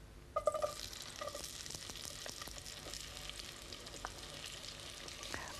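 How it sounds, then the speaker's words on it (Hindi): Sliced onions hit hot oil in a pot for a Malaysian egg curry gravy, giving a steady, close sizzle with a brief clatter of stirring near the start. "तेल डालने के बाद इसमें अब हम डालेंगे स्लाइस किया हुआ प्याज"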